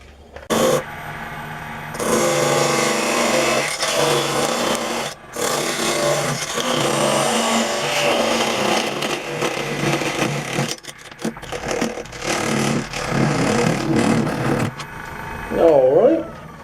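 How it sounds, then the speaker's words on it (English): A parting chisel bites into a spinning wooden pencil pot on a lathe, giving a loud, sustained scraping whine in long passes that stop and restart, with the motor's hum in the brief gaps. "let's take the parting chisel and come in here and clean this up"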